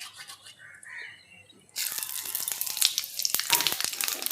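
Dried chilli, bay leaf and crushed nigella seeds hit hot fish oil in a wok, quiet rustling and then a sudden loud close sizzle that crackles on steadily.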